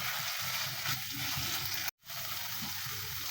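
Garlic paste and ginger paste fry in hot oil for a loitta fish curry, giving a steady close sizzle and crackle that breaks off for a moment before resuming.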